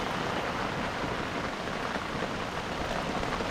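Rain from an approaching typhoon at an old Japanese house, a steady dense hiss of rainfall on surfaces, loud and unbroken from start to finish with no voices.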